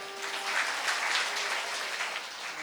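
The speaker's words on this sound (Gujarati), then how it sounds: "આ ભરતભાઈ એને વધાવો એકવાર તાળીઓથી." An audience at a Bhagwat Katha religious discourse in Haridwar claps in a short burst of moderate applause. The sound is somewhat distant and fades slightly toward the end.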